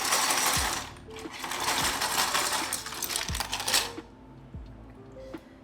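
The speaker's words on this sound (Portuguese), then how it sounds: "Eu vou despejar essas aqui mesmo" New keycaps for a 60% keyboard are poured out onto a surface, a busy rattling clatter of many small plastic pieces tumbling together for about four seconds, then a few sparse clicks as they settle.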